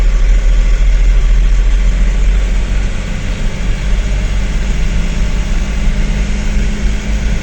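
A loaded truck engine runs steadily in a low-speed gear on a long haul, with a loud, continuous low rumble and drone that holds throughout without pause.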